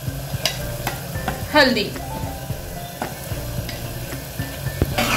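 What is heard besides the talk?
mixing ginger garlic, green chili paste and spices in pan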